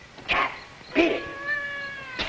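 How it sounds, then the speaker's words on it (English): A cat meows three times, close and clear, with a longer drawn-out wavering cry in the middle and short calls at the start and end, heard alone without talk. "Some cat woke me up."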